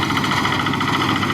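A soybean threshing machine runs steadily in a field at harvest, its engine giving a loud, continuous droning hum with a dense mechanical rattle throughout, close by and with no voices.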